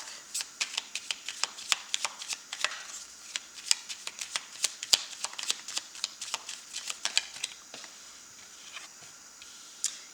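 An oracle card deck is shuffled close up, with a rapid run of crisp, papery riffles and taps repeating for about ten seconds and easing off toward the end.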